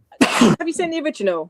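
A single sharp, loud sneeze bursts out close by, followed at once by a person speaking.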